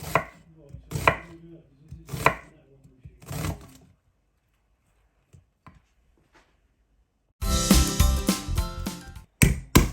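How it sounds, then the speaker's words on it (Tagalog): Kitchen knife chopping onions on a cutting board, heard as clusters of crisp, close knocks, then a near-silent pause and a dense burst of rapid chopping, with faint speech under it. "Okay, so next na i-prepare natin is yung ating onions. So, hiwa-hiwain lang natin."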